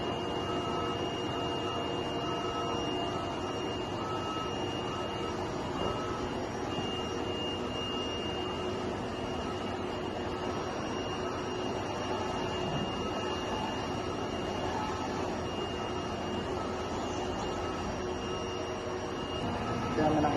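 A DTF printer running a nozzle check hums steadily with a faint high whine, a constant mechanical drone that stays quiet and unchanging throughout.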